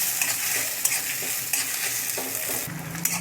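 Sliced onions frying in a kadhai, a loud continuous hiss and crackle with periodic scraping stirs of a spoon against the pan throughout.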